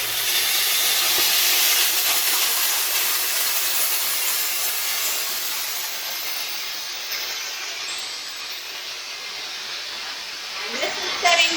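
A MondoVAP 2400 vapor steam cleaner running on setting 2 gives off a steady, bright hiss of steam that fades gradually toward the end, with a few faint clicks near the finish.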